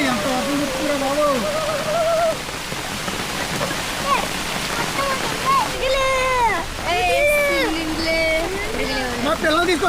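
Heavy rain falls on a cashew orchard during a night of camping, a steady broadband hiss that runs throughout beneath people talking and shouting nearby.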